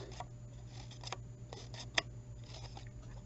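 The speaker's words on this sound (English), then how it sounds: "this time I'm going to cut" Scissors snipping old paper into a feather shape, quiet close-up cuts in an irregular rhythm with one sharper snip, over a low steady hum.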